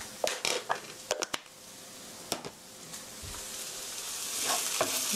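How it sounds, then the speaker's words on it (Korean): Sugar is stirred into onions frying in a pan for spicy tteokbokki. A few sharp scrapes and clacks of a utensil against the pan come first, then a steady close sizzle that grows louder toward the end. "한번 살짝 섞어주시고요."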